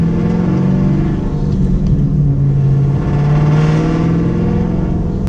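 A Chevrolet Camaro with caps fitted on its J-pipes idles and rumbles, a loud deep steady exhaust drone with slight shifts in pitch and no sharp revving.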